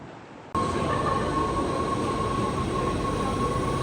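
A train pulls into a station platform in the Netherlands, coming from Amsterdam Central. After a quiet half second it breaks in abruptly with a loud, steady rumble and a high squealing tone that carry on without a break.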